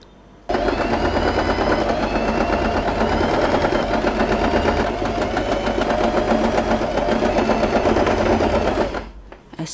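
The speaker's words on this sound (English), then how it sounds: "We are going to sew this part." Sewing machine running continuously for about nine seconds, stitching cloth for a handmade butterfly hair bow, a close, fast mechanical whir and rattle that starts abruptly and slows to a stop near the end.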